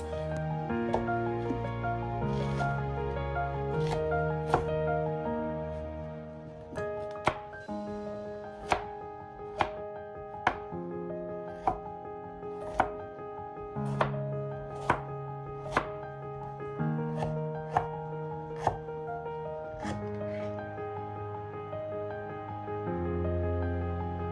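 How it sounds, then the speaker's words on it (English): Steady knife chops through carrots and onions on a cutting board, about one crisp thud per second, heard over continuous background music. "Rough chop everything, just make it blendable."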